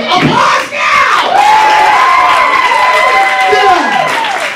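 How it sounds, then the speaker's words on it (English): Audience at a burlesque benefit show cheering, whooping and clapping loudly throughout, with shouts and whistling rising over the steady noise of the crowd. "Applause now!"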